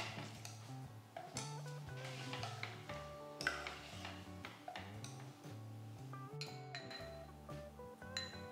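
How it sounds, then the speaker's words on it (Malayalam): Semiya sago payasam is moved into a serving bowl, with repeated soft clinks and scrapes of a spoon on metal and glass dishes, quiet and close, under faint background music. "നമുക്ക് സെർവിങ് ബോളിലേക്ക് മാറ്റാം."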